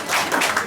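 Brief burst of applause and clapping from an audience at a party's fourth founding anniversary celebration, a dense patter of hands lasting under a second.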